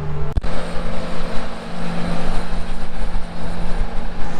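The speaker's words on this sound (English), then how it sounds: "Combine is just leaving." Combine harvester engine during soybean harvest, a loud continuous droning rumble with a steady hum, close by and unbroken, with a brief knock near the start.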